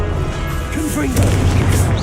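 Confringo explosive spell blast cast in the Hogwarts Legacy video game, a heavy booming burst that swells under the game's ambient bed, with a speaking voice around it.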